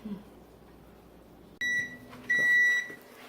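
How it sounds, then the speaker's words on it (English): An oven timer beeps loudly in two sustained electronic tones after a quiet stretch with faint background noise. "Okay, it is beeping. Sorry, our oven's really loud."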